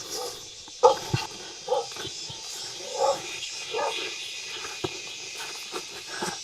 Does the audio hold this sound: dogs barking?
yes